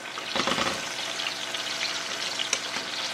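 Zucchini and squash slices frying until crispy in a pan, a close, steady crackling sizzle with bursts of sputtering pops and no talking.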